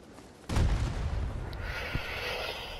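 A sudden loud blast in the Battlefield 2042 video game erupts about half a second in, then a long rumbling roar lingers with a softer thump near the two-second mark.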